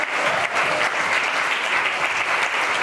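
A church congregation applauds loudly and steadily, dense continuous clapping filling the room throughout with no letup.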